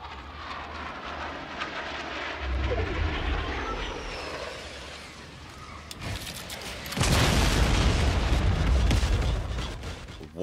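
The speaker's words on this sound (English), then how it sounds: "These kids in these guided missiles, bro." A guided missile in Fortnite roars in overhead and explodes with a loud, broad boom partway through, the blast rumbling and crackling on after impact amid game noise.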